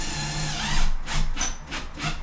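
A power drill drives screws into an aqua panel in a bathroom refit, with a steady whir followed by several short bursts of grinding, ratcheting buzz, close and fairly loud.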